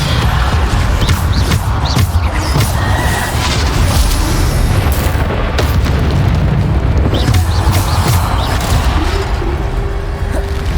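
Repeated spell-blast explosions from Bombarda casts in the video game Hogwarts Legacy, booming under dense continuous battle noise and music, loud and sustained throughout with no clear gaps between hits.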